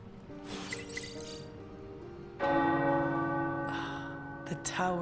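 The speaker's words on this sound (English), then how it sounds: "The tower bells are ringing." Tower bells ring in the video game Marvel's Midnight Suns, a series of resonant metallic strikes with long, sustained ringing tones layered over one another, moderately loud and alone with no talk.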